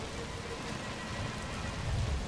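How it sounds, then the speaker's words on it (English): Thunderstorm rain in a zombie video game, a steady dense hiss of rainfall with a low rumble swelling toward the end. "It's a thunderstorm. Big old thunderstorm."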